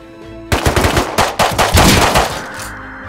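A shotgun loaded with buckshot fires repeatedly in the survival game Rust, giving a rapid, loud, close volley of blasts that fades out after a couple of seconds.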